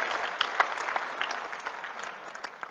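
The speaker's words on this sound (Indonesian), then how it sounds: "berikan tepuk tangan kepada Ketua Umum IPA, Bapak Kapolri Hanafah" An audience at a formal organisational inauguration event applauds, a steady, bright patter of many hands with a few sharper claps standing out, continuing throughout.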